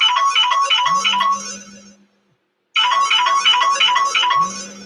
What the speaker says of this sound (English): That's my phone that we're streaming through right now.